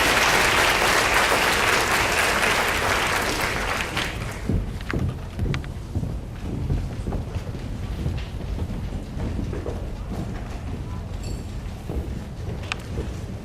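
A school audience applauds students at a high school senior awards ceremony, a dense wash of clapping loud at first, then thinning into scattered claps and lingering murmurs.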